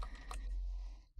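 Typing on a computer keyboard during a Minecraft session: a few quick clicks near the start, then a quiet stretch with steady low background hum.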